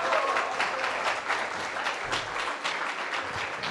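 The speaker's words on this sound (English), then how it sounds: "Let's give them one more round of applause" A church audience claps for the band in a dense, steady round of applause that fills the room at moderate loudness, with no voices above it.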